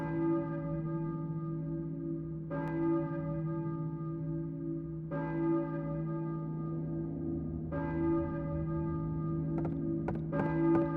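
A slow, resonant church bell tolls repeatedly in the video game Silent Hill, with long ringing overtones between evenly spaced strikes and a few light clicks near the end.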